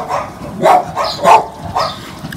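Dogs bark in a quick series of about five loud, close woofs with short pauses between them, plus a faint whimpering yip near the end.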